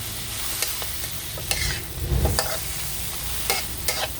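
Pork with ginger stir-fried in a pan, sizzling steadily while a utensil scrapes and clacks against the pan in sporadic strokes, close and fairly quiet.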